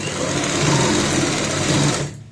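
A sewing machine runs steadily while stitching a girl's sleeveless frock, a close, continuous whirring hum that holds for about two seconds before stopping abruptly.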